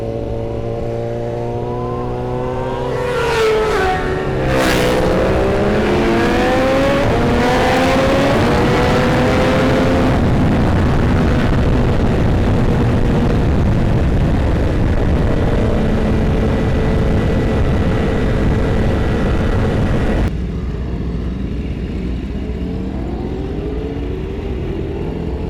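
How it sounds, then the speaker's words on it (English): A Kawasaki Ninja H2 motorcycle fitted with a Sidewinder exhaust accelerates hard. Its loud, rising engine tone sweeps up through the gears close by, then settles into a steady roar that goes on with no speech over it. "it sounds insane when it's flying, but oh, it's got the Sidewinder exhaust"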